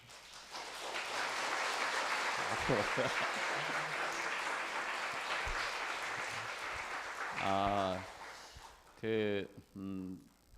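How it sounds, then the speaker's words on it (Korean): Church congregation at a revival meeting in Korea applauding, a broad sustained clapping wash for most of the span that fades out, followed by a few short sung or voiced notes near the end. "우리가 감사의 아멘과 박수를 드리도록 하겠습니다"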